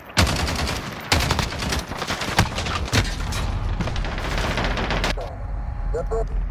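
Rapid gunfire bursts in Call of Duty: Modern Warfare, loud and close, with sharp repeated shots and booms stopping abruptly near the end.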